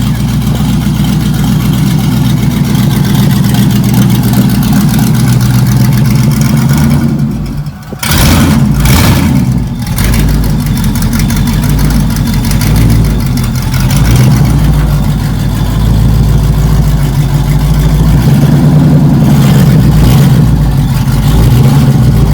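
A loud engine in an LS-swapped 1970 Chevrolet Nova, running with no exhaust fitted, revs and drones continuously with a raw, rough roar, briefly cutting out and sputtering before picking up again.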